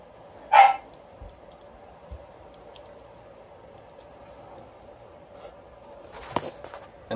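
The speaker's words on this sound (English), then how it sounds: "that's our dogs going apeshit" Dogs barking indoors, one sharp loud bark near the start, then a fainter burst of barking toward the end, with light clicking and tapping between.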